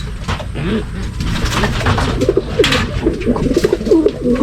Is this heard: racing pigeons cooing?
yes